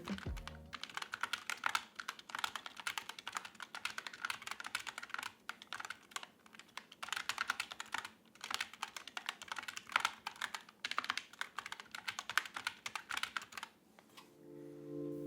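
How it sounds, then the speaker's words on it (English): Rapid typing on an Epomaker AK84S compact optical mechanical keyboard with factory-lubed switches, a steady stream of close, crisp key clicks in bursts with brief pauses, alone without talk. "Let's check out a quick typing test."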